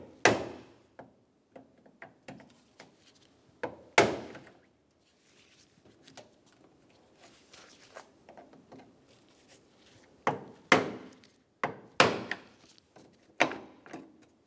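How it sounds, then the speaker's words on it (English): Sharp metallic taps of a pick knocking rivets on a car bumper bracket of a 2012-2020 Chevrolet Sonic, scattered irregular clicks, some louder, in a quiet space. "Using a pick, we're going to tap the rivets."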